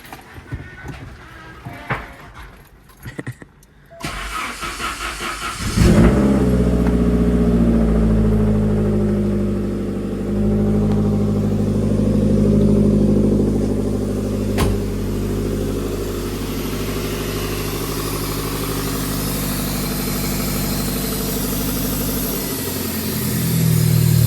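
Clicking and rustling, then a Saab SPG engine cranks and starts, settling into a steady loud idle that runs on with a constant low rumble.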